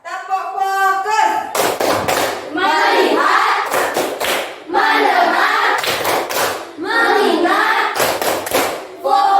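A school class claps together in a rhythmic focus clap, bursts of sharp hand claps alternating with group chanting, loud and near, voices running between the clapping patterns.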